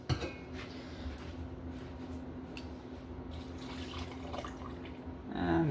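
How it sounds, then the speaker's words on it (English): Water poured steadily into an Instant Pot while making Asian-style fish and rice porridge, a continuous close trickling splash that lasts several seconds with a small clink at the start. "now I'm going to put a little bit more liquid into this"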